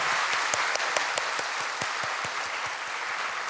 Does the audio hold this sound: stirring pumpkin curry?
no